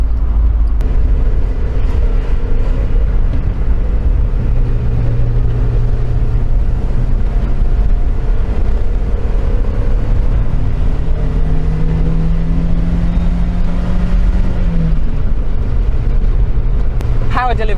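A 1.8-litre engine in a Mazda MX-5 NA (Miata) drones steadily with rising and falling tones as it revs up through the gears, loud and continuous, with faint voice underneath.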